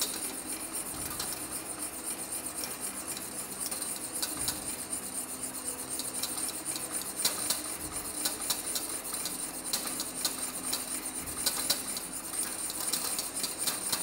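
A dairy pastry mixture whisked without pause in a pan over medium heat, giving a long run of quiet metallic scraping and rattling strokes with a faint sizzle under it.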